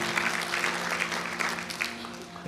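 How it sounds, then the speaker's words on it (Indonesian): A church congregation claps steadily throughout, a dense patter of many hands with a low hum underneath. "Tepuk tangan saudara."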